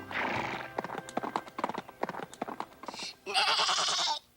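Rapid clip-clopping hooves trot close by, then a horse lets out a loud, drawn-out whinny near the end.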